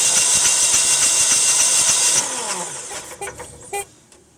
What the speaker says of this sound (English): The starter pulls about 90 amps area when it first kicks on